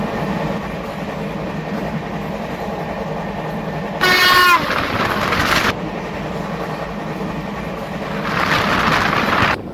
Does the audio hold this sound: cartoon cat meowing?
no